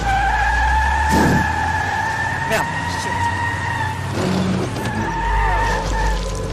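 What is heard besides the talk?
car skidding in The Wolf Among Us video game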